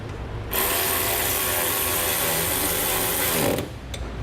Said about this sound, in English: we'll be back using our 13mm, this time socket and wrench, to tighten down the bolts for our bracket